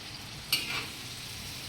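Squeezed dried bombil fish drops into oil on an iron griddle, a quiet steady frying hiss with one sharp splash-like burst of sizzle early on that fades back into the soft background crackle.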